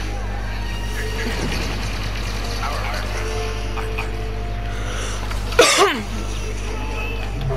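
A single sharp cough from a player in the middle of a Star Wars Battlefront 2 match, one abrupt loud burst standing out over the steady hum of game sounds.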